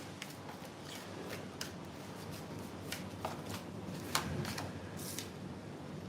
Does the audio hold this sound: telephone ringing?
no